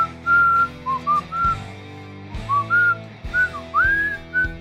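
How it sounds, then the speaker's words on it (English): A person whistles a bright, wavering tune in short phrases, close and loud, with a steady low hum underneath and brief pauses between the notes. "Can I actually whistle? Of course I can."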